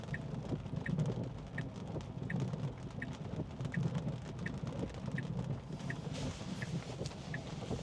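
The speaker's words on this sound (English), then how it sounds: "Even though it's sprinkling light rain." Light rain falling on a car driving on a road: a steady patter and wash of water noise, with a faint regular ticking throughout and no speech.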